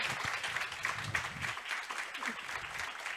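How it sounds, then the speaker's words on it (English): A workshop audience gives a round of applause, a dense, even burst of many hands clapping in an indoor hall, steady throughout with faint voices mixed in. "a round of applause"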